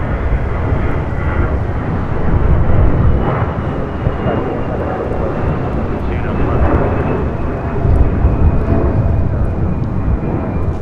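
An airliner on approach to LAX after a flight from Tokyo, a loud, steady broadband engine roar that swells and eases, with voices talking over it.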